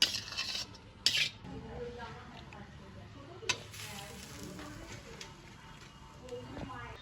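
Grated coconut and jaggery are stirred in a wok, making soft sizzling and scraping with a few clinks of utensil on metal, fairly quiet, with a voice talking over parts of it.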